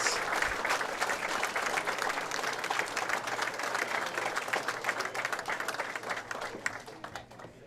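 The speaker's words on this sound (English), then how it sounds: "let's give a round of applause for all of our boys singles finalists." A crowd at a high school bowling state championship in a bowling alley applauds the boys singles finalists, dense sustained clapping that holds steady and thins slightly toward the end.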